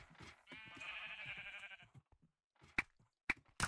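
A sheep in a Minecraft Mineplex minigame gives one clear, sustained bleat of about a second and a half over faint game clatter, followed by a few sharp clicks.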